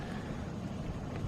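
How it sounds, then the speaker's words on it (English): Strong wind buffets the microphone at a green desert oasis, a steady low rumbling roar filling the short stretch without pause. "It's fucking windy as hell."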